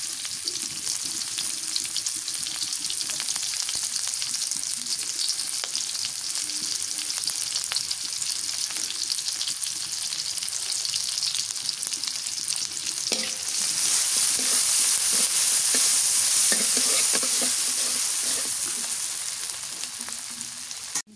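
Chopped onion and green chilies fry in mustard oil, a dense, continuous sizzle close by that swells louder and brighter partway through, with faint stirring scrapes underneath.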